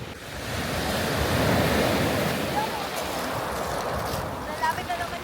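Ocean surf washes in at The Needles on the Isle of Wight in a loud, continuous roar with wind buffeting the microphone, and faint voices are just audible beneath it.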